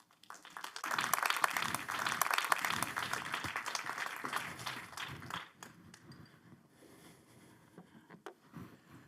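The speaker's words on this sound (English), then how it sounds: "Please give him a really big round of applause." Tech festival audience applauding a keynote speaker, rising quickly into a full round of dense clapping that thins out after about five seconds into scattered claps and quiet.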